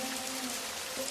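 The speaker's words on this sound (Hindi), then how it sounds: "मूसलाधार बारिश रुकने का नाम ही नहीं ले रही थी।" Heavy rain pours down at night in a steady, even hiss that stays unbroken throughout, with no voices.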